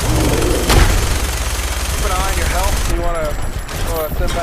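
Minigun fire in Fallout 4 during a fight with a super mutant, a dense rattling burst with a sharp bang near the start, under sustained game noise and brief tonal effects.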